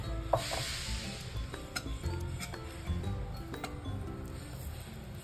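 Semolina roasting with ghee in a pan for sheera is stirred steadily, with soft scraping, light clinks of the spoon against the pan and a faint sizzle underneath, close and fairly quiet.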